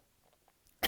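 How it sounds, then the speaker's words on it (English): A single sudden cough lands close into a microphone after near silence, loud and abrupt at the very end. "nobody wants to hear anybody coughing in a microphone"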